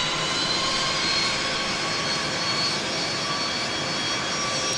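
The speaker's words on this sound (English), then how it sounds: "red and white plane is now on the move" A red and white Southwest jet airliner taxiing at Dallas Love Field, its engines giving a steady, broad roar with a faint high whine that holds evenly throughout.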